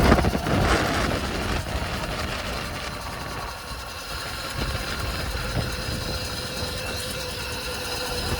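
Electric micro stunt bike at full throttle in mode 1, pulling about 6 kilowatts, producing a loud continuous motor whine with a steady broadband roar that holds evenly throughout, no voices.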